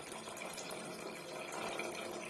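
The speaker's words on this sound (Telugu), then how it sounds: "4 గ్లాసులు నీళ్లు పోస్తున్నాను" Rice-soaking water is poured steadily back over the rice in a pot for mushroom biryani, a continuous close gushing splash with no talk over it.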